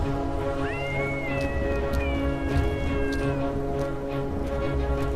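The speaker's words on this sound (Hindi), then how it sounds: "कब से कह रहा हूं कि बिल्लियों को बाहर निकाल दो।" Cats meow in an animated Hindi children's story, a drawn-out sliding meow rising over a steady, busy background of sustained tones that continues for about five seconds.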